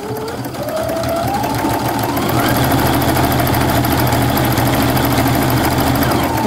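A sewing machine top stitching a canvas bag pocket runs with a steady, fast mechanical whir and rhythmic needle chatter close by, unbroken for several seconds.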